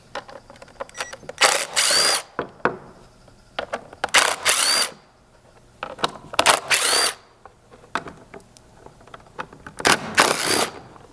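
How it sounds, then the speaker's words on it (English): Power driver with a T25 Torx bit removing screws from a Ford Bronco rear tire carrier bumper: four separate whirring bursts of about a second each, close and fairly loud, separated by quieter handling noises. "Then you can switch to a T25 to remove the 8 Torx head screws holding this"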